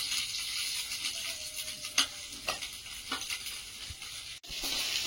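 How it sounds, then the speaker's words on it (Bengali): A large tilapia fish fries in hot oil, producing a continuous close sizzle with a few sharp crackles and stirring clicks. "মাছটা ভাজা হয়েছে, তুলে নেব।"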